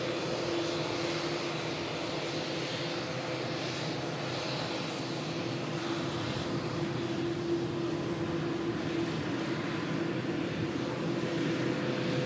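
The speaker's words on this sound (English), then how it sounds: "Very modern airliner this is, 787" A Boeing 787 Dreamliner airliner passing at an airport, its engines giving a steady, fairly distant roar with a faint sustained hum, even in level throughout with no talk.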